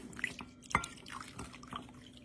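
Soft, irregular splashes and drips of cold water poured onto powdered gelatin in a shallow dish, a few brief louder plops among quieter trickling.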